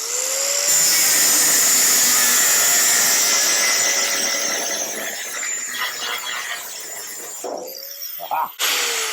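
Cutting tool nips off a large, ugly weld on a 1956 International cab-over pickup during restoration, a loud steady grinding screech for most of the stretch that fades and breaks into a few short bursts near the end.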